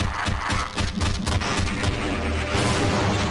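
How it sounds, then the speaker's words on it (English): Explosions and gunfire crash through a loud, dense battle in the video game Half-Life Blue Shift, with overlapping booms and blasts near explosive barrels packed together continuously, heavy and close, with no speech over them. "explosions all over the place"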